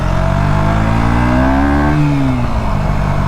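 A KTM 125 Duke motorcycle engine hums loud and close while riding in slow traffic, holding a steady drone with a rising then falling rev around the middle.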